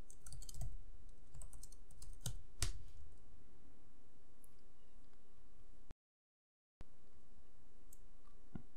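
A quick run of key clicks on a computer keyboard as npm install jest is typed, soft and close, clustered near the start and then tapering into quiet room tone.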